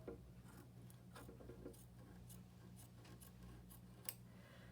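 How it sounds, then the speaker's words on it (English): Scissors snip and trim quilt batting around a clover embroidery design in a series of quiet, close crisp cuts at an irregular rhythm, with one sharper snip near the end. "making it easier for you to cut around the batting and trim it down"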